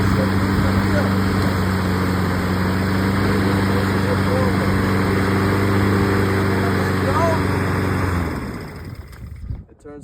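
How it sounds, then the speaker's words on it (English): A Honda HRN lawn mower engine runs steadily and loudly close by for about eight seconds, then cuts out and winds down, followed by a few faint clicks. "the lawnmower is running, and when I press this button, it should move the wheel."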